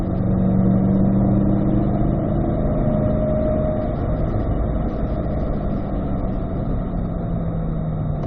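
A Chevrolet C8 mid-engine Corvette pulls hard on a race track at a driving school, its engine note loud and steady under load with a brief shift tone change, continuous throughout with no pause.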